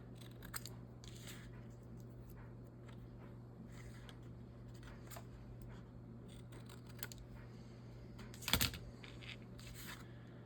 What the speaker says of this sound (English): let's cut it up as a tag first